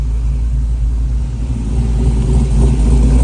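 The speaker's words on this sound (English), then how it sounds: "Exhaust sounds so good." A Buick Regal with a completed engine swap rumbles loudly at close range, its exhaust giving a deep, steady idle that swells slightly in a mild rev toward the end.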